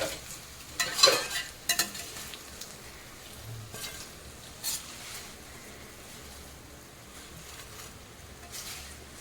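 Mini vadas made from colocasia leaves fry crisp in a pan with a soft, steady sizzle, broken by a few sharp clinks and scrapes near the start.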